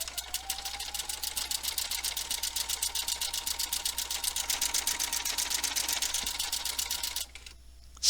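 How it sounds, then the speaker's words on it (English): Sewing machine running a laser-guided pictogram stitch on fabric: a fast, even mechanical chatter of rapid needle strokes for about seven seconds, speeding up slightly, then stopping abruptly. "I'm going to stitch."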